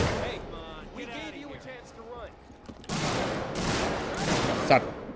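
Gunfire in the horror video game Alien: Isolation comes as a burst of loud, rapid, noisy shots in the second half, following stretches of someone talking excitedly and talk continuing over the shots.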